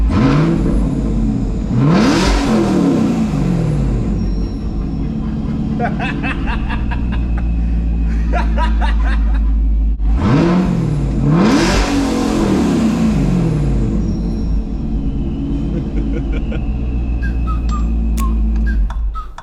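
Procharged Chevrolet Camaro SS engine revving hard on freeway pulls, two loud sweeping runs up through the revs with rising whine, each followed by crackles and pops on the shift, loud and close throughout.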